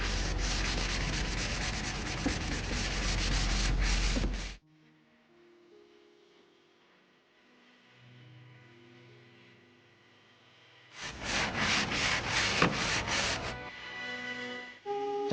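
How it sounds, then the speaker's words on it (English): Scuff sanding of a wooden dresser with 220 grit paper: two bursts of rapid back-and-forth rubbing, close and steady, separated by a long quiet gap with faint background tones. "This one just needed a scuff sand."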